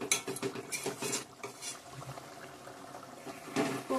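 Doi chicken curry with potatoes simmering in a pot, a soft steady bubbling and popping with a few faint clinks of the pot, quiet and close with no talking.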